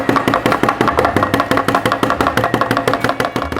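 Chocolate-filled moulds shaken on a work surface to settle the chocolate, giving a steady rapid train of close, sharp rattling knocks, about four per second, alone without talk.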